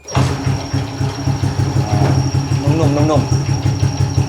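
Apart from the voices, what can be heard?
motorcycle engine idling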